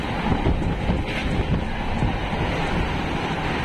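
A moving passenger train in green countryside with distant hills makes a constant loud rumble and rush of wind, with no break and no voices.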